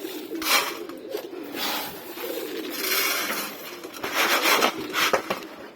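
Several domestic pigeons coo softly nearby in a loft at feeding time, low throaty calls overlapping with light shuffling and pattering, no voices.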